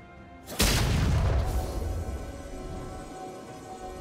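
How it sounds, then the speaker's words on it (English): A sudden heavy boom of a turret being destroyed in League of Legends, an Akali versus Vex mid-lane match, bursts in after a quiet moment and rumbles away over several seconds amid game sounds. "Blue team's turret has been destroyed."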